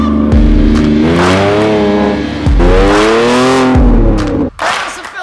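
A Lykan Hypersport tears around the Mid-Ohio race track, its engine revving hard and climbing through three loud, close gear-shift sweeps before easing off near the end.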